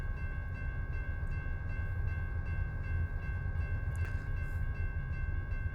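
A train rumbles past nearby, a steady heavy roar with a faint sustained horn tone above it, no voices.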